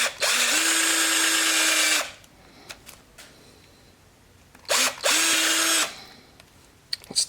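A high-speed drill whirs loudly into a plastic action figure in two bursts of about one and a half seconds each, with quiet clicks and handling noises in between.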